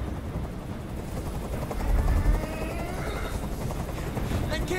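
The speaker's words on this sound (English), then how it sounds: "Tell that helicopter to get out of here!" A hovering helicopter in the video game Detroit: Become Human throbs as a steady, loud rotor drone with deep low rumble, surging briefly midway while a voice speaks over it.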